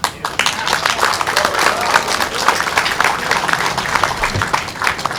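Audience clapping at a political press event in Malaysia after Pakatan Harapan names Dr. Mahathir Mohamad as its Prime Minister candidate: dense, steady applause from a nearby crowd, continuous for about five seconds with a few voices mixed in.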